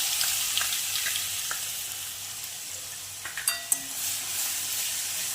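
Crushed garlic frying in hot oil with asafoetida and mustard seeds for an okra curd gravy: a steady close sizzle with a few soft stirring clinks near the end, no talk.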